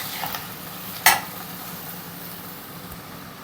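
Chopped broad beans stirred in a pan for a Telugu-style masala curry, giving a faint steady sizzle with soft scraping and one sharp clink of the utensil against the pan, no talking.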